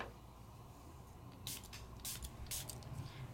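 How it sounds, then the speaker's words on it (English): Short hissing bursts from a mini mister spraying plain water onto the back of a craft piece, three or four quick puffs close by over a quiet background. "take your plain water mini mister and spray the backside with just plain water"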